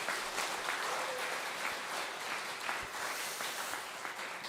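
Congregation at a church Bible seminar gives a round of thankful applause, a dense, steady clapping that holds evenly throughout, heard from within the hall at moderate level.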